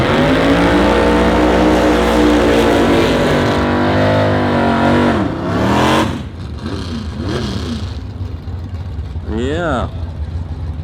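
A gasser drag race car at the Nitro Nationals roars loudly, its engine holding a strong steady drone before dropping away to quieter revving. An announcer talks over it.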